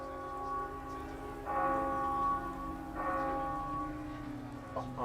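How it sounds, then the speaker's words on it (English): A deep, ringing church-style bell serves as a 'bell of shame' sound effect during a Silverstone racing club broadcast, striking about four times at steady intervals, each toll humming and decaying over a faint hiss. "But the bell of shame sounds like this."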